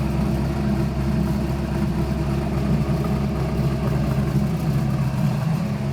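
An LS V8 engine on a rescue air boat runs steadily and loud, a continuous deep rumble held close without breaks.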